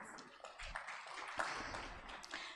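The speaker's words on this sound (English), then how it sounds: "A round of applause," Audience applause at a digital transformation festival panel: a short burst of scattered, moderately distant clapping with a few sharper individual claps, fairly soft and brief.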